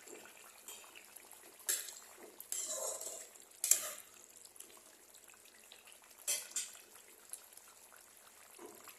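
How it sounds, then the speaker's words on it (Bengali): Fish curry simmers gently in a pan over low heat, a faint bubbling hiss broken by a few sharp clinks and scrapes of a utensil against the pan, quiet and close. "এই 3 মিনিট মতো একটু মিডিয়াম আঁচ থেকে একটু কম আঁচে এটাকে ফুটতে দেবো"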